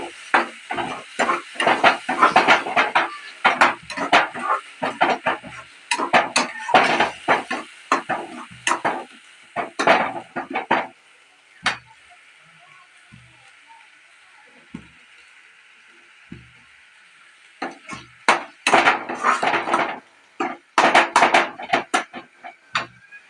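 Fish fried with cumin, coriander and pepper paste is stirred in a pan, with rapid rhythmic scraping and clattering strokes that pause for a quiet stretch midway and then resume.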